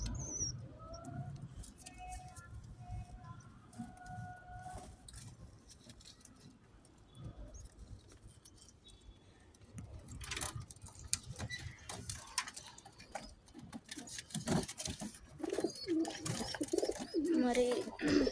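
Pigeons coo softly in repeated low throaty calls early on, fading under rustling, scratching and shuffling noises, with a person speaking intermittently nearby.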